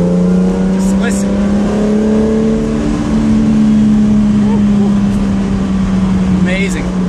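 Jaguar Superlight E-type with an 80s-based Jaguar engine, heard from inside the car as a loud, smooth steady drone with shifting engine tones and gentle rises in revs, continuous throughout.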